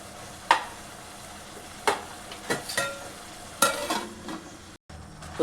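Tomatoes and green chilies cooking in oil for coriander chutney are stirred in a pan, with several separate scraping strokes over a low steady sizzle and a brief silent gap near the end.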